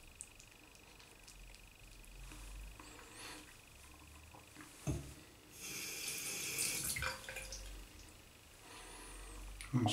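Shaving gear is rinsed under a running bathroom tap, with close water splashing that grows louder and busier partway through, plus a few knocks against the sink.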